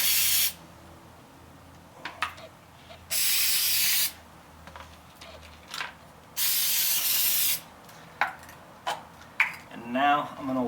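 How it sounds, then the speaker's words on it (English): Spray adhesive hisses onto a 2008 Honda Accord door panel in three separate sustained bursts, each about a second or more, with clicks and handling noises between. "And it's going to go a little to the underside, so spray down here too."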